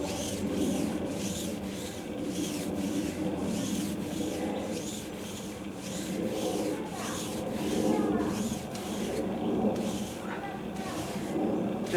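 A rag rubs gel stain onto the wooden top of an industrial sewing cutting table in steady back-and-forth strokes, close and rhythmic, with a voice talking over the wiping.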